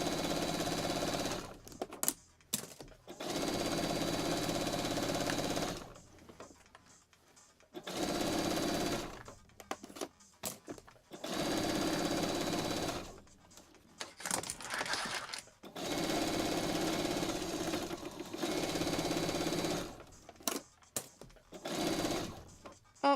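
A sewing machine stitches binding onto a quilt in repeated bursts, each run lasting a couple of seconds with brief pauses between, close and steady with no voices.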